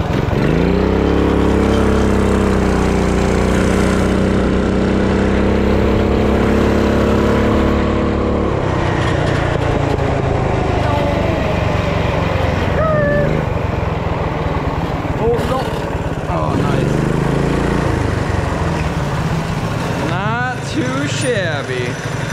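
A small offroad drag minibike engine runs steadily close by, idling and revving with a continuous buzzing drone, while people talk over it.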